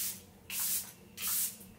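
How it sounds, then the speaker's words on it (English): Two short bursts of setting spray misted onto a face during a makeup routine, each a soft, close hiss lasting about half a second with a pause between. "So now I'm going to get a setting spray."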